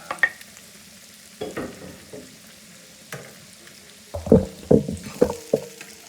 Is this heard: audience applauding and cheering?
no